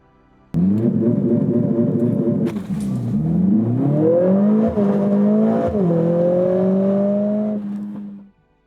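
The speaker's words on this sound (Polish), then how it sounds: "Wciskamy mocno hamulec, gaz do oporu, szybko zdejmujemy nogę z hamulca i jedziemy." Launch control start in a Mercedes-AMG CLA45 S Shooting Brake: the engine revs hard and holds, then roars through rising gears as the car pulls away, loud and close for about eight seconds before cutting off.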